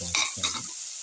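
A spoon makes two quick scrapes through a winter melon mixture frying in a pan, over a faint steady sizzle.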